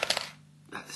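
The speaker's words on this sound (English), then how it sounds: "Place the coin on the tongue, and in it goes." A coin drops into a novelty toy money box with a bright metallic clink and rattle, then a short pause and a second clatter, all close by.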